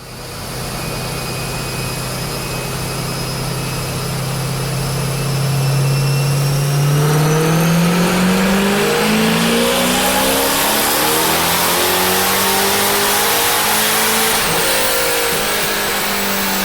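Supercharged C5 Corvette V8 (A&A supercharger) on a dyno at a performance shop in Minnesota, engine note climbing steadily through a long, loud wide-open pull, then backing off with exhaust roar lingering.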